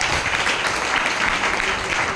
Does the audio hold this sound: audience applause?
yes